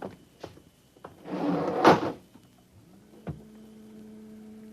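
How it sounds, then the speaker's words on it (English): Elevator sound effect in an old radio drama: a short clunk, then a swelling mechanical rumble of the lift door or cage, another clunk, and a low steady hum as the car moves. "Into the elevator."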